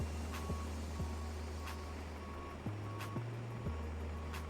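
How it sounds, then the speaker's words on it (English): An airport passenger bus in Microsoft Flight Simulator 2024 backs up with steady, evenly spaced reversing beeps over a continuous low diesel engine drone that shifts pitch a few times, with a faint intermittent tone in the background. "Passenger bus is coming."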